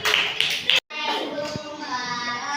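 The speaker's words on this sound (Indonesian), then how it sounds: "tepuk tangan dulu untuk kelompok 2" Classroom applause for a student group after a science presentation on photosynthesis: a short burst of clapping from many hands, a brief silence, then voices with scattered taps and claps underneath.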